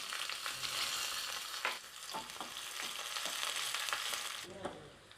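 Shallots, crushed garlic, mustard seeds and urad dal fry in hot oil, giving a steady close sizzle broken by several sharp crackles and pops and the scrape of stirring.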